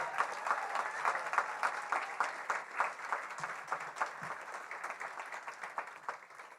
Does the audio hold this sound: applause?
yes